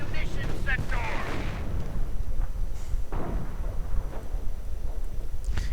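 Artillery and gunfire hitting a Sherman tank in a World War II strategy game, heavy booming blasts and rumbling bursts at a steady mid distance, with a voice talking over them throughout.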